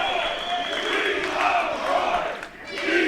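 A wrestling crowd at an indie show roars steadily in support of a challenger given a surprise title shot, a dense, sustained cheer with shouts rising and dipping slightly throughout.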